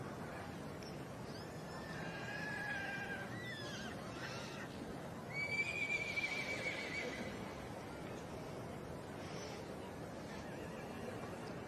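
A horse whinnies a few times in an outdoor show ring at an agricultural show, faint and somewhat distant over a low steady crowd murmur, with one clearer, brighter neigh midway.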